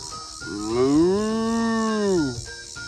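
A single long, close cow moo rises, holds steady for nearly two seconds and then falls away, with faint farmyard background around it.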